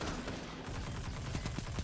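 Rapid gunfire from a Destiny 2 Trials of Osiris match, a dense run of sharp repeated shots with a few harder cracks near the end, loud and continuous across the moment.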